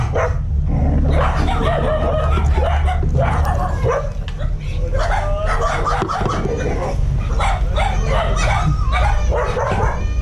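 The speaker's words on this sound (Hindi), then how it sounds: "मोहल्ले के कुत्ते आ गए थे।" Several neighbourhood street dogs bark and yip continuously and loudly, close by, in an overlapping chorus with occasional whimpers, along a roadside on a summer scooter journey in Uttar Pradesh.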